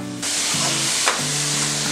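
Sizzling and hissing from a hot pan as masala and yogurt are stirred in, bright steady frying noise with a brief scrape partway.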